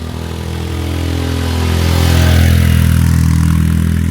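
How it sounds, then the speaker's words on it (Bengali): A motorcycle climbs a steep hill road toward Marangtong peak in Bandarban. Its engine hums steadily with a low harmonic drone and grows gradually louder as it approaches from below. "এই যে বাইক আসতেছে নিচ থেকে"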